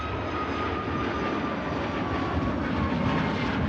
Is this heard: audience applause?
no